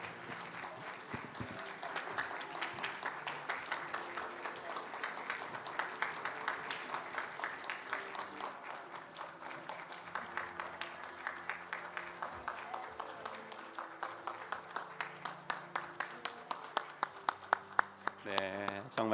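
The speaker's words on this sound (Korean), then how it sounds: "우리 한번 큰 박수로 우리 목장에서 축하하실 때 여러분들께서 축하해 주셨으면 좋겠습니다." A church congregation at a Sunday joint worship service gives a long, big round of applause, dense clapping that stays steady before settling into more distinct, rhythmic claps near the end, with some voices underneath.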